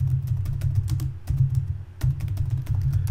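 Typing a search on a computer keyboard, quick, close clicking keystrokes in a steady run over a loud, constant low hum.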